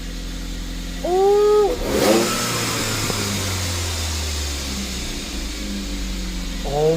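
A Chevrolet Cobalt SS engine sits at a high idle, and a sharp rev surges up near the start before it settles back to a steady hum. A voice exclaims briefly.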